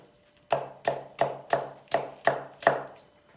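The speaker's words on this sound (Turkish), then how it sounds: "Arkadaşlar pırasalarımızı böreklik gibi doğrayacağız." A knife chops through leeks onto a cutting board, seven crisp, evenly spaced thuds at a steady pace, close and clear with no talking.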